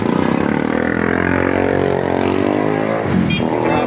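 Road traffic of cars and motorcycles rumbles nearby, a loud, steady engine drone with shifting revving tones as vehicles idle and pull past, no voices over it.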